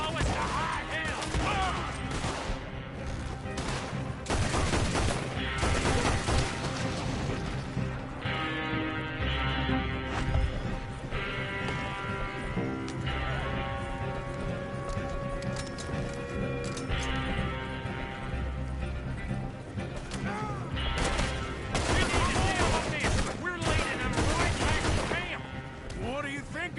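Gunfire and explosions from Red Dead Redemption II, loud and continuous, with dense overlapping shots and booms throughout a chaotic firefight while voices talk over the action.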